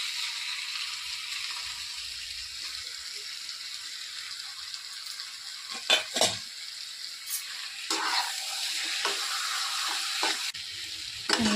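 Half a kilo of washed chicken frying with sautéed onions in a pan for a chicken kuzhambu, giving a constant loud hissing sizzle broken by a few sharp clatters and scrapes of stirring.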